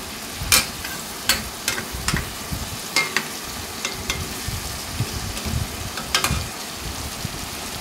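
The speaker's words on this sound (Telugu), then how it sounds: "టమాటా ముక్కలు చక్కగా ఆయిల్లో ఫ్రై అవుతున్నాయి కదండి." Tomato pieces frying in oil for a brinjal and egg tomato curry, a steady sizzle broken by sharp clattering spoon scrapes and stirs against the pan at irregular intervals.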